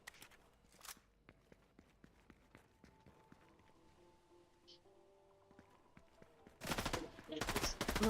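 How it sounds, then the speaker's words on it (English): Gunfire in the Mass Effect 3 video game: faint scattered shots and clicks over a quiet stretch, then a loud sustained burst of rapid fire near the end. "Are you shooting at me?"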